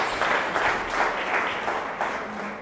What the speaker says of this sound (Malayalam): ഒന്ന് കൈയടിച്ചെന്ന് ശരിക്കും.